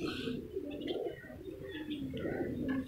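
Jacobin fancy pigeons coo and chirp softly inside a loft in Punjab, Pakistan, with soft overlapping calls close by.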